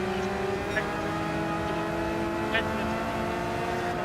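Porsche and Ferrari GT race cars battling at Laguna Seca in a sim racing game, with a steady, droning engine hum, faint passing swells and a commentator talking over it.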